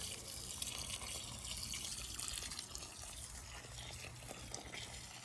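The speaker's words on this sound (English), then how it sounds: "I will give it a little water here" Water poured onto a Kwansai cherry tree in a home garden, a steady, soft splashing and trickling stream that runs continuously and evenly from start to finish with no voices.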